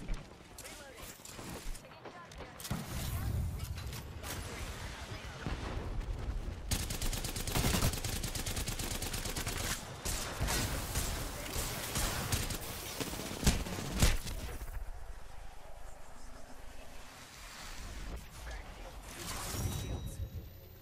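Sentinel rifle and other gunfire in a ranked battle royale match, shooting at two Pathfinder characters, with a long stretch of loud, dense shots and impacts, a short break and then more shots, while someone talks over it.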